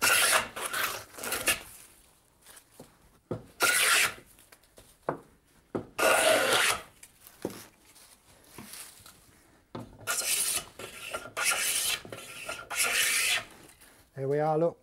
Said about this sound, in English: we pull the plane over, take a controlled shaving there